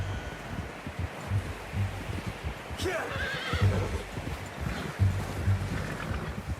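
A single horse whinny rises midway over a low, rumbling outdoor ambience in Red Dead Redemption 2, with soft thudding hoof-like sounds.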